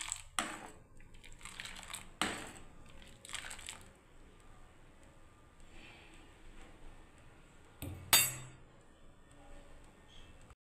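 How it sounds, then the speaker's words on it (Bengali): A ladle stirs milk in a pot, making intermittent scraping and clinking strokes in short bursts with quiet pauses between them, and one sharper knock near the end. "দুধটা আমার হাতা দিয়ে আমি সমানে নাড়ছি"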